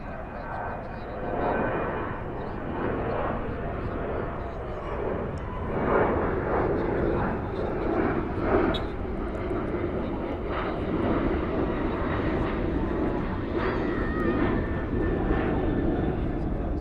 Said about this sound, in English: That was a max taking off.